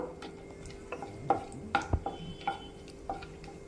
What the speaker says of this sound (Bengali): সামান্য আমি একটু হালকা হালকা করে ভেজে নেব